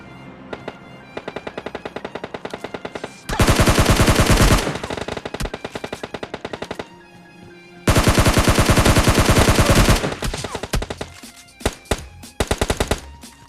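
Bursts of automatic gunfire from a PUBG battle royale match, loud and rapid, in two long sustained volleys with scattered single shots and shorter bursts between them.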